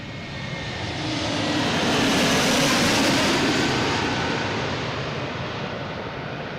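A United Airlines Airbus A321neo arriving from Denver at Boston Logan, its broad jet roar swelling to a loud peak and then easing slightly as it passes, with no voices.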